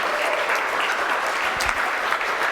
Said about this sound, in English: A round of applause for our team.